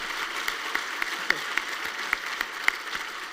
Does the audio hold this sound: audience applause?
yes